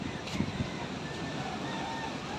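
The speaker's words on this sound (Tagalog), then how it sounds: "Sobrang lakas ng hangin ito." Strong wind rushes across a rooftop by the sea while waves slosh below, forming a steady, noisy roar with a brief gust-like flare near the start and a voice speaking over it.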